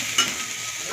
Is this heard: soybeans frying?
yes